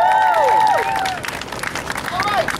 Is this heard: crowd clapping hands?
yes